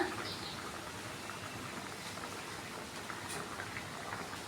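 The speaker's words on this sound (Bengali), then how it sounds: "আমড়াগুলো বেশ ভালো মতো সিদ্ধ হয়ে এসেছে" Hog plums boil in water in a cooking pot, making a continuous bubbling, hissing simmer. The sound is fairly quiet and even from start to finish.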